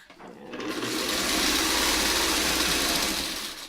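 A sewing machine runs steadily for a few seconds, stitching a quilt block seam for a snowball nine-patch, with a continuous close mechanical whir.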